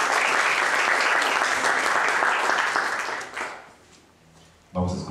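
An audience at a business press conference in Oaxaca applauds loudly and evenly for about three seconds, then the clapping fades away and a brief bump of noise follows.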